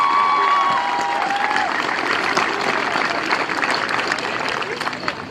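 Audience applause honoring graduates' parents at a high school commencement ceremony, a broad steady wash of clapping across a large crowd that fades slightly toward the end.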